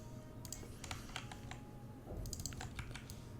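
Rapid keystrokes on a computer keyboard while text is typed into After Effects, irregular clusters of close, crisp clicks with brief pauses and a faint steady background hum.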